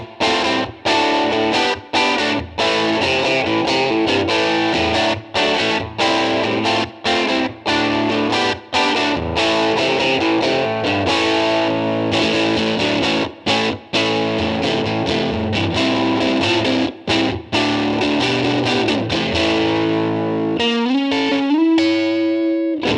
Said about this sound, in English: here's how the Tweed Drive patch sounds with nothing switched on.